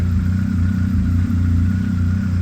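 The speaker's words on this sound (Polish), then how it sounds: "klikamy sobie zapłon. No i to, za co kochamy rzędowe czwórki." A 2006 Honda CB1300 inline-four motorcycle engine idles steadily close by, a smooth, even low rumble with a constant hum and no revving.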